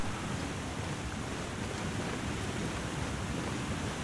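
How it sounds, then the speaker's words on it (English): A waterfall in The Long Dark video game roars as a dense, constant wash of rushing water, loud and unbroken, with no voices. "but if you guys can hear that waterfall, that's roaring in the background"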